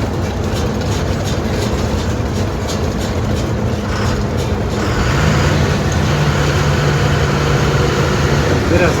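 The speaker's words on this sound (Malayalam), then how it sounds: "ബസ്സാണ്" A bus passes on the road beside a lorry travelling from Kannur to Taliparamba, marked by constant road rumble and a deeper engine drone that swells and holds through the second half.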